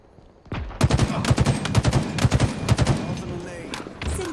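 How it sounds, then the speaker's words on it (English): A Cinder Shot bombardment in Halo Infinite on the Launch Site map, heard as a loud, rapid volley of heavy thumping blasts rolling on for several seconds, then tailing off into lingering rumble. "Cinder shot inbound."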